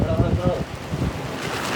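Strong wind blowing straight into the microphone outdoors as rain approaches, making a loud, continuous low rumbling roar that buffets unevenly throughout.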